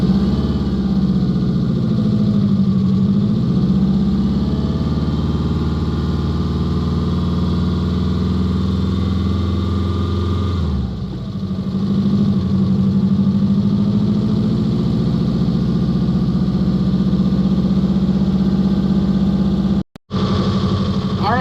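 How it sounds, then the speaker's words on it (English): A 1973 Volkswagen Super Beetle with an air-cooled 1600cc engine idles steadily and loudly up close, a continuous low rumble with a brief dip midway and a sharp cutout near the end. "1973 Volkswagen Super Beetle. It originally had, I think, a 1600cc motor, air-cooled motor"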